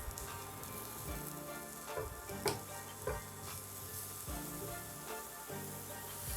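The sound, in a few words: vegetables frying in a pan for aspic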